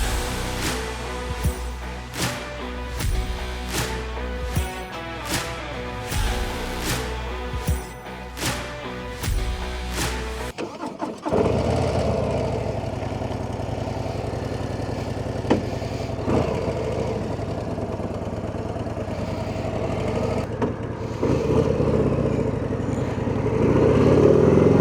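A 2026 Harley-Davidson Low Rider ST motorcycle engine, first a close, rhythmic, loping idle, then starting off and riding, becoming a steady rumbling drone that gradually grows louder.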